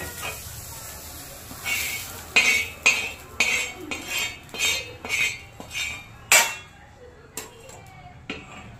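Roasted whole spices being scraped out of a pan onto a metal plate, a series of about a dozen sharp metallic scrapes and clinks in an uneven rhythm, close and moderately loud.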